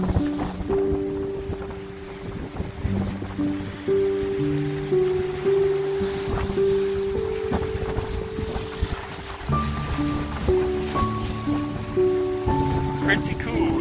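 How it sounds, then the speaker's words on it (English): Strong wind buffets the microphone beside choppy Lake Erie water slapping against shoreline rocks, a constant roar with washes of surf, while a person talks over it and tonal music plays underneath. "this wind is blowing like crazy, but just look how choppy the water is there"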